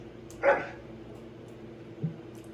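A noble hound in the fantasy role-playing game Dragon Age Origins lets out one short, moderate bark, followed by a fainter low huff over a steady quiet ambient hum.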